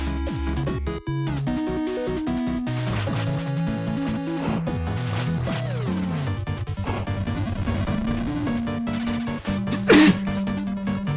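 One sharp, loud sneeze bursting out near the end over steady retro video game chiptune music, close and sudden, with no talk.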